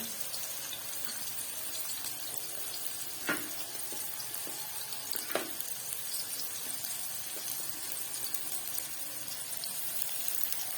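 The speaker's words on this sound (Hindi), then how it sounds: "प्याज को हम करेंगे हल्का सा ब्राउन।" Continuous oily sizzling of onions frying in a pan, with a couple of faint clinks of a utensil stirring.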